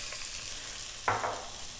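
Chopped garlic hits hot sunflower oil in a wok for a stir-fried kale dish, giving a sudden burst of sizzling that rises over a steady background hiss and then settles into a continuous fry.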